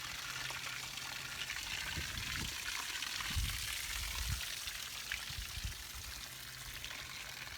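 Water pours and splashes steadily from a hose siphoning a pool, a soft continuous trickle with a few low gurgling pulses, close by and fairly quiet.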